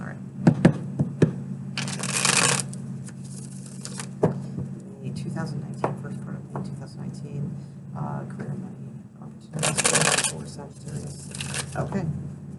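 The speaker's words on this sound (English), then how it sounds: "2 more shuffles." Cards are riffled and shuffled in a few quick bursts, with soft taps and rustles in between over a low background hum.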